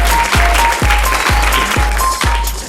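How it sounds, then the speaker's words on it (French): A room of young participants in a 72-hour short-film challenge applauds, the clapping rising in repeated swells at close range, with a steady tone running underneath. "félicitations, vous pouvez vous applaudir vous-même"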